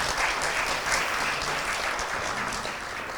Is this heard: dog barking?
no